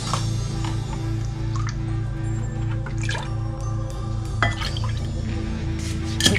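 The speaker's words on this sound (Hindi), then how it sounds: "उसके लिए 2 एग ले लेंगे। मैं 1/2 कप मिल्क डालेंगे।" Milk poured into two eggs in a bowl while mixing batter for breaded chicken, heard as soft dripping and liquid splashes with light clinks over a steady background hum.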